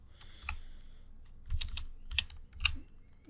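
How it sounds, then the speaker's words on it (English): Typing on a computer keyboard, a few quick clusters of close, crisp key clicks separated by short pauses, with no voices. "let me just type this out"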